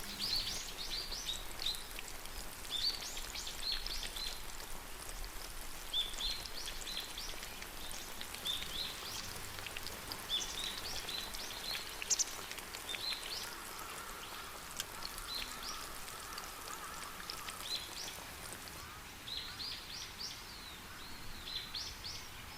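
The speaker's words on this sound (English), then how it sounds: "Deep fry them until they turn out gorgeous, deep golden brown." Potatoes deep frying in hot oil until deep golden brown, a steady crackling, bubbling sizzle with dense fine pops continuing throughout, close and moderately loud with no talking.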